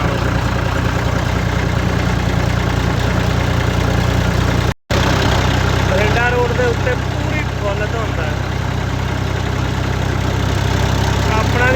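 A tractor hauling a load of basmati rice to market on a foggy night runs with a loud, steady engine drone and knocking rumble under a voice, broken by one brief cut of silence.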